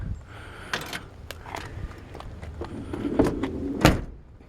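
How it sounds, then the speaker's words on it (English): The doors of a 1954 Mercury Custom open and shut with several solid thuds and latch clicks, close by, over a quiet room background. "Doors open and closed nice and solid."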